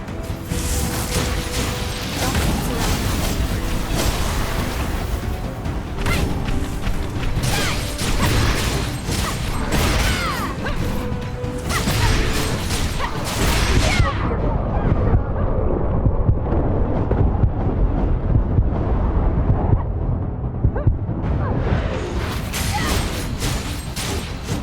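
Turrets in Code Vein keep up continuous, crashing fire with rolling explosions and mechanical clatter, a loud, dense barrage that runs the full length, turning briefly deeper and rumbling midway.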